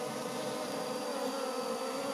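Honey bees, Apis cerana, swarm around a hive near flowering calliandra during a honey harvest, giving a continuous faint, dense buzz with no voices.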